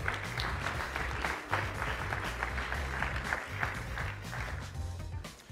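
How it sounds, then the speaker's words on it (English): Audience applause for judges at a startup pitch competition, a moderately loud continuous patter of clapping with a low hum underneath, fading slightly toward the end. "Give them a round of applause."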